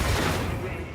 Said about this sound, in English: We blew something up over here